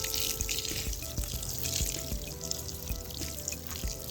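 Garden plants being watered at the end of the day, with a soft continuous trickle and splash of running water close by, quiet and steady, no talk.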